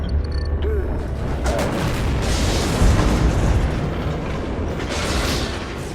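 A space station blows up in a film scene, heard as a sustained, dense rumbling roar with deep booms and crackling debris that stays loud for several seconds.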